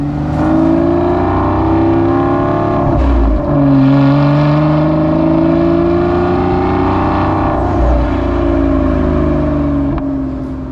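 An Aston Martin V12 engine, front-mid-mounted, drones steadily at high revs on the road, the pitch rising and dipping a few times as it pulls along, loud and close with no talk.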